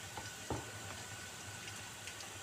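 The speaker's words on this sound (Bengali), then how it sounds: "তেল দিয়ে নিলাম, যখন পেঁয়াজটা ভাজবো তখন আদা বাটা দিয়ে দিলাম" Onion fries quietly in oil with ginger paste in a pan, a faint, even sizzle with one sharper stir or crackle early on.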